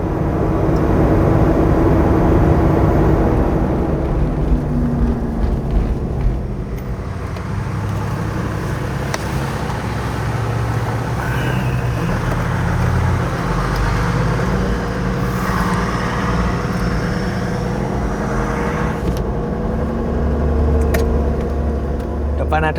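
A Toyota Land Cruiser VXR 80 fitted with a ZF8HP70 eight-speed automatic gearbox and 35-inch tyres cruises at about 2000 rpm in sixth gear. Its engine drones low and steady inside the cabin, with a few shifts, while someone talks throughout.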